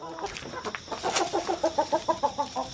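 Several young chickens, half of them roosters, cluck nearby in a quick rhythmic series of short, repeated calls, growing more regular toward the end.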